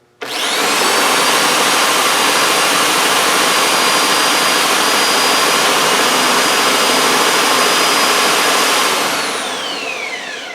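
An electric drill spins the input of an R380 gearbox, cold in a workshop, producing a loud, steady high whine that holds for about eight seconds before winding down.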